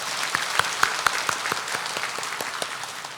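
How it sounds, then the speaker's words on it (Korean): A church congregation applauds during a Sunday worship service, a steady wash of clapping from many hands with a few sharper individual claps standing out, moderately loud and without speech. "우리 그런 하나님께 감사 박수 올려드리겠습니다."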